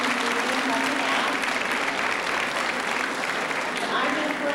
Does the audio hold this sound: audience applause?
yes